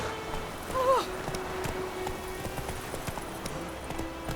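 Hooves of Roach, the horse from The Witcher 3, clip-clop in a quick steady rhythm over ground, moderately close, with a faint whistle-like tone early on and a low game ambience underneath.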